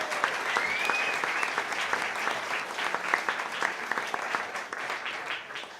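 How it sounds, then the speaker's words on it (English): A small audience at a community coffee house bluegrass concert bursts into warm, continuous clapping, with a brief whistle early on, the applause holding steady before tapering slightly. "So I would want to give a round of applause"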